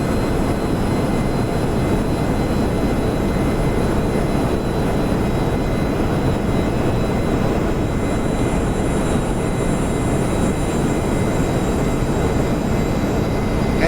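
Jet engines of a B-1A bomber roar during the takeoff climb in a flight simulation game, a loud, steady, unbroken rumble and hiss with no talking over it.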